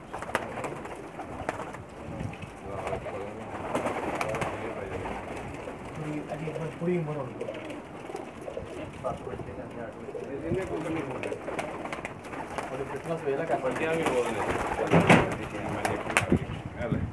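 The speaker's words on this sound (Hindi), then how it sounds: "शर्मीले कबूतर सब नर हैं जी" Male Sharmeelay pigeons, a Pakistani breed, coo in low, throaty murmurs amid a busy flock, with someone talking over them and steady background noise.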